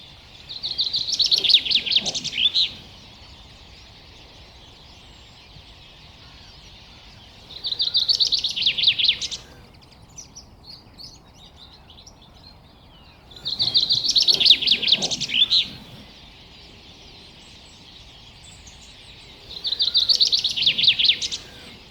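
Chaffinches gathered at a puddle on a path chirp in four distinct bursts of bright, close calls, separated by quiet outdoor pauses.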